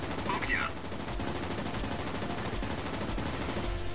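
Rapid machine gun fire from a warplane in the game World of Warplanes, a continuous rattling burst at moderate loudness alongside other game sounds.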